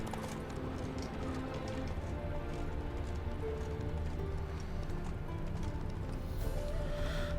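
A horse gallops in The Witcher 3 video game, steady rhythmic hoofbeats over a dense bed of game music and ambience, moderately faint and continuous.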